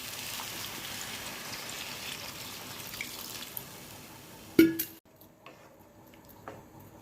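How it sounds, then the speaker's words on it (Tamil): Curry with turmeric and water boils in a pot, a steady soft bubbling hiss that ends with a sharp clunk, leaving quieter scattered pops. "கலகலகலன்னு நல்லா கொதிக்குது"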